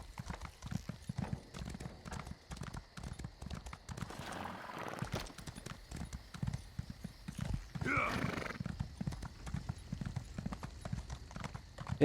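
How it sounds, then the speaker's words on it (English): Horse galloping in the video game The Elder Scrolls Online: a rapid, steady clip-clop of hooves runs throughout, with a couple of brief whinny-like bursts. "Run like the wind, little horsey."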